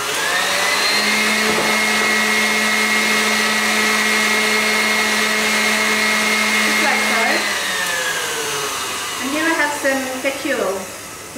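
A KitchenAid stand mixer whisks egg whites until frothy, a steady loud motor whine with a sustained tone that winds down near the end into brief rattling and clanking from the bowl and whisk.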